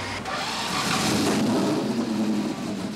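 A 1983 Callaway Indy 500 racing engine running on a test stand, a loud, steady, dense mechanical roar that swells slightly midway and holds without letting up.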